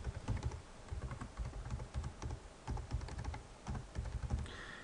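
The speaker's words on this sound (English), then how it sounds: "So let's go ahead and type that in." Rapid keystrokes on a computer keyboard as a user ID is typed, a steady run of close clicks in short bursts with brief pauses between them, no voices.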